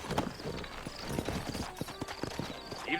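Horse hooves clip-clop in Red Dead Redemption, a brisk run of close, hollow strikes on packed ground with a brief snort or whinny, joined by ambient game sounds.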